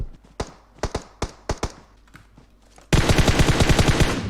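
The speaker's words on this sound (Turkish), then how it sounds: "soldan bir silah sesi var" Sharp gunshots in PUBG Mobile crack out singly and in pairs, then give way to a loud, continuous burst of rapid automatic fire.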